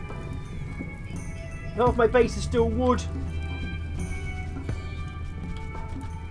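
Steady rainfall patters in the video game RimWorld as a constant background hiss, while someone talks over it.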